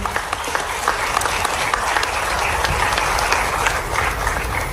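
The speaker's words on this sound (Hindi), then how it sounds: "एक बार पूरे मंच के लिए जोरदार तालियां बजा दे और अपने आप के लिए भी." An audience at the Global Outreach Summit 2025 in Delhi applauds with steady, dense clapping that fills the hall, holding at an even level throughout with no pause.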